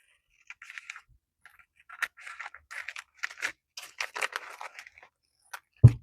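Irregular crisp snips and crunchy cutting sounds, close and fairly quiet, coming in short bursts with a louder thump at the end.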